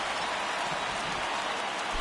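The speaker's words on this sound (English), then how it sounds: "the rain starting to intensify here. It's coming down a little heavier now" Steady rain coming down harder over a baseball stadium, a dense continuous hiss with no distinct voices.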